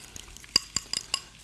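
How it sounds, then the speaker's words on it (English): Oil and mayonnaise being stirred together into an aioli in a bowl, with soft scraping and a few sharp clinks of the utensil against the bowl at irregular moments, close and fairly quiet. "All we're gonna do, just mix it up as much as possible."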